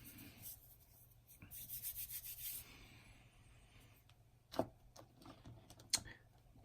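Dry rubbing of a mixed paint pigment onto the tyres of a 1:48 Tamiya F4U-1A Corsair model, a soft close scuffing in short strokes, followed by a few sharper taps and clicks.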